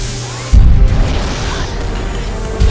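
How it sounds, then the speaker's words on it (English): A sudden loud boom bursts in and fades into a crackling, rumbling tail, and a second hit lands near the end. It sounds like a cartoonish explosion sound effect. "Explosions everywhere!"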